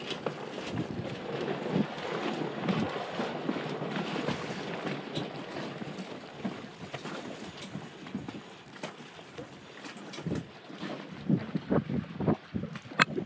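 Steady wind rushing past a microphone with water splashing and sloshing against a sailboat hull under sail, no engine drone, continuous throughout, at Malabar Cays.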